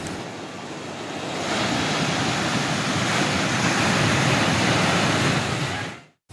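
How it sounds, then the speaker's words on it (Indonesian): Large ocean waves over two meters high crash and roar in stormy weather with strong wind, a continuous loud surf wash that swells after the first second and fades out at the end. "Cuaca buruk dan ketinggian ombak yang mencapai lebih dari 2 meter ini mengakibatkan para nelayan tidak bisa"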